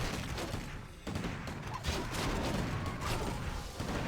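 Rifle fire crackles in a Warcraft III match, dense rapid volleys of gunshots layered with battle clatter and impacts, loud and continuous without pauses.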